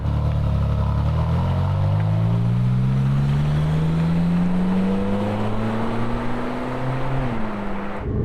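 A Ferrari 458 Speciale engine in sport mode roaring steadily as it accelerates, its pitch climbing smoothly then dropping near the end, loud and close with road rumble.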